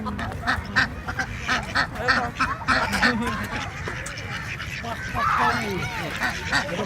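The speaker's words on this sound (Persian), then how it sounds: "اونه چقدر مرغابیه ماشالله اینجی" Ducks at a pond in a Karachi safari park quack and honk repeatedly in uneven bursts at moderate distance, mixed with crowd chatter and people talking nearby.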